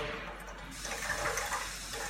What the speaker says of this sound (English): you'll hear that water belching through